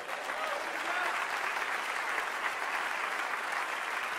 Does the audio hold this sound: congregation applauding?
yes